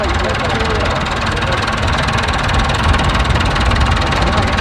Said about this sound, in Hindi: तो ये देखते हैं ट्रैक्टर में सैर ट्रैक्टर की सैर करते हैं